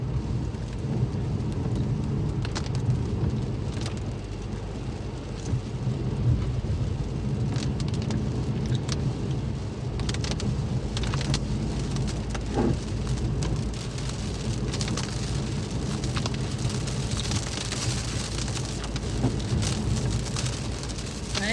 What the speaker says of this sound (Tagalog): grabe ng ulan